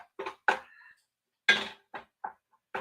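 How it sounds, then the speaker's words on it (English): Ground meat of a coarse grind stirred in a pan in a home kitchen, giving a few separate scrapes and clinks of utensil against cookware with short pauses between them, close and fairly quiet. "We're just going to stir up our meat here and just take a look and see how this is going"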